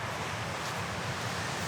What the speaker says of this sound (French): nous sommes dans une région très venteuse. Le vent du nord est très fort.